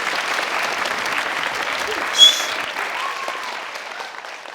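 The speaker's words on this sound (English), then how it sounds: "Give these two a round of applause" Lecture audience applauding briefly at a talk on student loans, moderate clapping with a louder burst midway, then tapering off as it fades.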